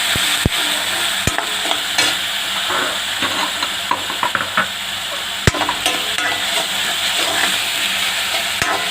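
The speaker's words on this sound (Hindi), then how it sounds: "और साथ ही ये जिंजर गार्लिक का पेस्ट, अदरक लहसुन, और इसको थोड़ा भून लूँगी।" Ginger-garlic paste fries in a pan with a loud, dense sizzle while a spoon stirs, producing scraping and several sharp clinks against the metal.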